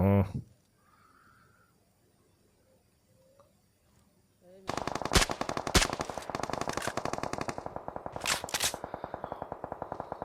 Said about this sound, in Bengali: কয়টা এনিমি ফায়ার শুনতেছি